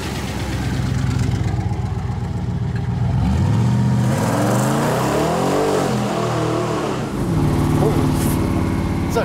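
A 1953 Studebaker restomod making about 1,000 horsepower roars loudly from inside the car, revving up through a sweeping climb, dropping sharply at a gear shift and then pulling again, with people talking over the engine.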